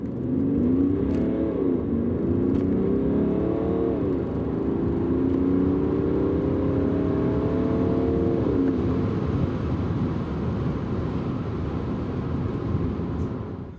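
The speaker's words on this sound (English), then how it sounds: "Now I'll compare that last run with that of the BMW 335 clean diesel." A BMW 335 clean diesel car accelerates hard through a 0-60 mph run, its engine note rising in steady sweeps with a gear change partway through, then settling into a sustained whirring drone, loud and close with no talking.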